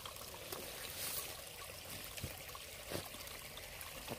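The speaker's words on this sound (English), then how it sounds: "That's a waterfall." A small waterfall trickles and splashes outdoors during an RC crawler trail outing, a faint, steady wash of running water with occasional soft knocks, no voices.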